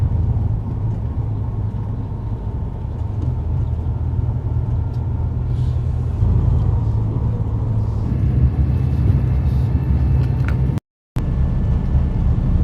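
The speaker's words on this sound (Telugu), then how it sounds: "ఇగోండి బస్సు బయలుదేరింది పటాయాకి." A bus driving from Bangkok to Pattaya, heard from inside. The engine drones with a low, steady rumble throughout, swelling slightly midway, with a brief dropout near the end.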